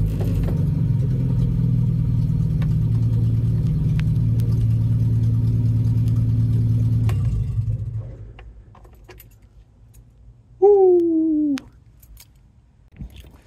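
A Datsun 620 pickup truck's engine idles with a steady, low, close rumble for about seven seconds and then cuts off, leaving quiet broken by a brief squeaky whine near the end.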